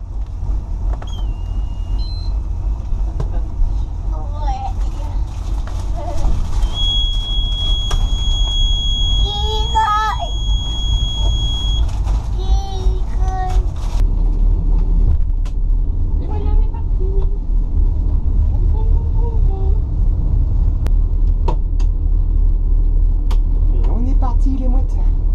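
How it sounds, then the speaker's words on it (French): Boat engines idling as they warm up before a trip out to sea, a steady low rumble that runs throughout with voices talking over it and brief high electronic beeps early on. "Je vais mettre les moteurs à chauffer d'ailleurs, je pense."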